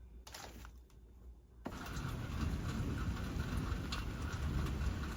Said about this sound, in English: Getting some much needed rain.